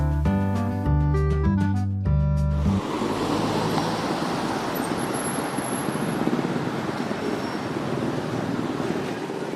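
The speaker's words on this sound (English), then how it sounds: "we take our first look at the streets of Klang, and they appear to be busy and bustling with traffic" Busy street traffic in Klang, Malaysia, a steady roar of passing vehicles and road noise, preceded at the start by a short burst of loud tonal music.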